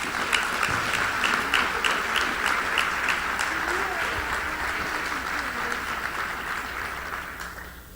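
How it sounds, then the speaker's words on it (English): Audience at a professional development conference closing session breaks into sustained applause, a dense wash of clapping that holds steady for the whole stretch and tapers slightly at the end, with faint voices underneath. "Please give them a round of applause."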